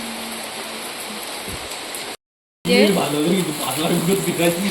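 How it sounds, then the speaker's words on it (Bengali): Heavy rain falls in a dense, steady wash of patter close by. After a brief silent break it comes back louder, and a voice speaks over the downpour. "কি পরিমাণ বৃষ্টি হচ্ছে।"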